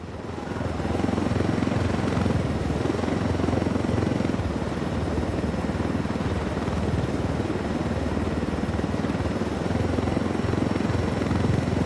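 A helicopter in the video game Ghost Recon: Wildlands gives a steady, loud rotor roar that fades in over the first second and then holds constant and close for the rest, with no talk.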